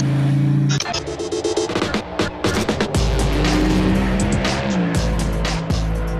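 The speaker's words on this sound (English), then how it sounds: "This is a 72 Pantera." A 1972 De Tomaso Pantera on a professional racetrack roars close and loud, its engine revving hard through shifts while the tires squeal and skid in sustained bursts.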